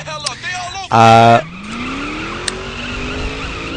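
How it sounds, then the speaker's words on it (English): Ford GT engine in a racing video game, a loud burst of revving with a rising pitch sweep as it accelerates, then a steady drone with tire skid noise, while someone talks over it. "this is the car I'm using. It's a Ford GT 500, I think it is."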